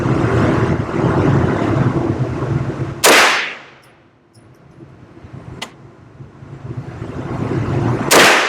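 Gunshots from a CMMG Mk9 9mm carbine rifle fired outdoors at a range: loud sharp cracks near 3, 5.6 and 8.2 seconds, separated by noisy wind-like background.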